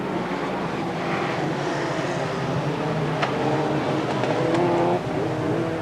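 F2 stock cars racing around a short oval circuit, with a steady roar of several engines revving at a distance, a continuous loud wash of noise without talk.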